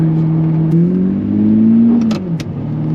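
A Lamborghini Murcielago or Ferrari F430 engine hums and drones from inside the car, its tone rising slowly and then dipping as the revs shift, steady and fairly loud, no voices.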